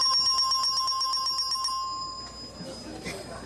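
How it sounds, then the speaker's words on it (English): A bright electric game show winner bell on The Price Is Right rings in rapid repeated strokes for about two seconds, then stops, leaving background noise. "That's the You've Just Won bell"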